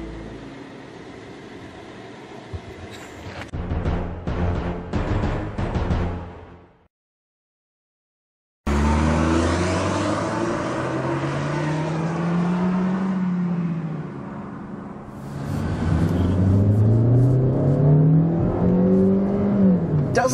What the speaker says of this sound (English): And now it's time to get a quick driving impression of the Kia Forte!